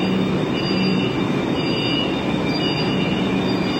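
A Kolkata metro train runs along the route between Howrah Station and Ruby, with a steady loud rumble of wheels on track and a sustained metallic tonal whine throughout, no voices.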